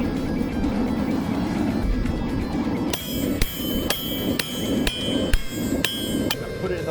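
Hammer striking a small piece of steel held in a vise, about eight sharp ringing metallic blows at a steady pace, close and loud over a constant rumbling background.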